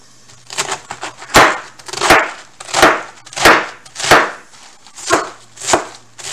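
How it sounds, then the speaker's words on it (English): A knife chops through a tight head of cabbage on a cutting board, about nine firm, evenly spaced crunchy strokes, close and clear with no talking. "I'm going to put the rest of the cabbage in there. Chop it all up."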